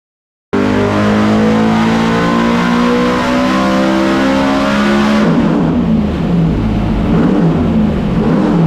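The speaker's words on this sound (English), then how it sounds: "Dodge R5 P7 NASCAR engine" A loud, steady Dodge R5 P7 NASCAR engine roar on a dyno, strong harmonic tones, holding a high rev before shifting to a rougher, deeper note.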